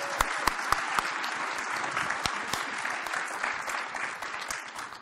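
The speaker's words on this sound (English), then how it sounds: "let's give a warm round of applause" Applause from a conference audience welcoming two speakers, a moderately distant, steady patter of many hands with a few crisp individual claps standing out early, continuing without speech.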